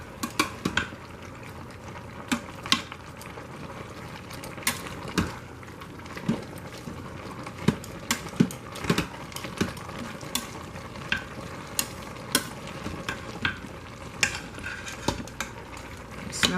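A spoon stirs collard greens cooking in a pot, scraping repeatedly through steady sizzling and bubbling. The strokes keep an uneven rhythm at close range with no talking.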